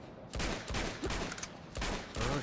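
Gunfire in Uncharted 2: Among Thieves comes as several loud, close bursts of shots in quick succession, separated by short pauses.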